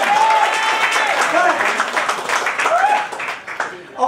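A business presentation audience applauding, dense clapping with a few voices calling out on top, building then tapering off near the end.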